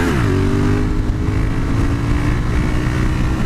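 A Yamaha MT-07 motorcycle engine revs loud and close during a wheelie, its pitch dropping then holding a steady, rough drone for several seconds.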